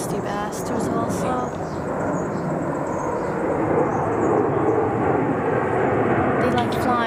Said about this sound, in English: Military plane.